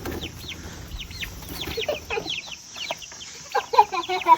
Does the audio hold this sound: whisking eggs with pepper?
no